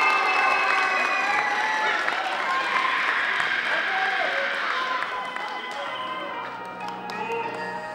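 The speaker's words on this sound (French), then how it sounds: "sous vos applaudissements, mesdames et messieurs." A crowd at a singing contest final applauds a singer, a dense wash of clapping with some cheering that is loud at first and gradually thins, with tones of music or voice rising through it.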